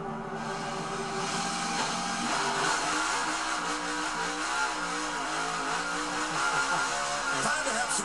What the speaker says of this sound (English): Time to have some donuts